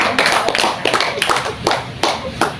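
A small group of peer-counseling participants claps in a steady pattern, sharp in-unison claps in quick pairs with short pauses between, close and fairly loud with no talk.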